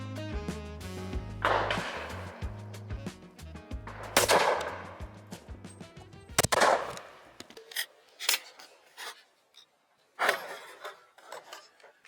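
Shotgun blasts at clay targets, a series of sharp close reports spaced a few seconds apart, each with a brief ringing tail, amid quiet handling noise outdoors.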